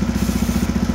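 A motorcycle engine runs close by with a steady, rapid low putter, loud and alone for a second.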